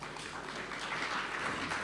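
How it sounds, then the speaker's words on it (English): Short burst of audience applause at a memorial event honouring a professor, steady clapping from a gathered crowd lasting under two seconds. "we really need to give everyone a round of applause"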